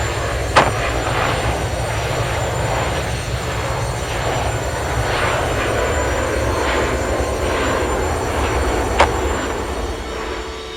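A Boeing 727 jet climbing out just after takeoff in turbulence and wind shear gives a continuous loud engine roar with low rumble, two sharp brief clicks standing out near the start and end.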